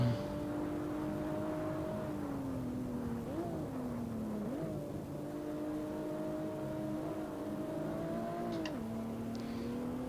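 A BMW 1M race car in Assetto Corsa, Stage 3 tune at Barcelona, drones steadily up close, its engine note holding and then dipping and climbing through gear changes, with no one talking.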